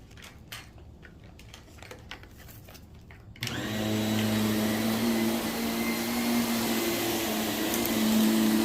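Vacuum cleaner used for carpet cleaning, with a few light clicks and handling knocks before the motor starts with a sudden steady loud whine and roar that continues close up to the end.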